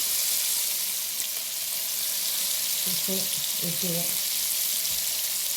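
Tiger prawns sizzle and fry steadily in hot oil, a dense constant crackle throughout, with a brief voice speaking over it near the middle.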